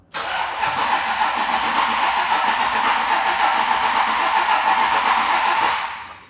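The engine of a cheap crashed Ferrari fires up for its first start, settling into a loud, steady roar that holds for several seconds before dropping off at the end.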